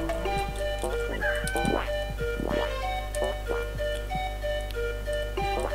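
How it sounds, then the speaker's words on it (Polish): Chickens cluck in the platform video game Pekka Kana 2, with several short, choppy clucks and squawks repeating over a steady low game hum and bright tonal effects. "pomogą wam w tym kurczaki, o ile je uwolnicie"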